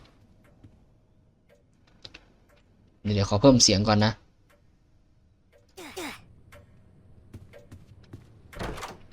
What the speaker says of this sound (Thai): อ๋อเสียงนาฬิกานาฬิกาโบราณ